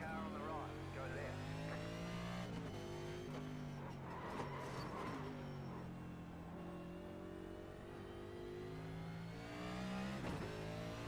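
Race car engines rev and drone continuously in a racing video game on a dangerous track, with shifting pitch as other cars pass close by, loud and steady throughout under a talking player.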